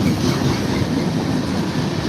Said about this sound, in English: A mixed freight train, most likely the LINGAL freight from Lincoln, Nebraska.